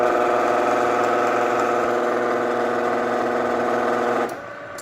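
A cast-iron workshop machine runs with its worm gear drive engaged, giving a steady, loud mechanical hum with a rhythmic geared whir that drops abruptly to a quieter tone just before the end.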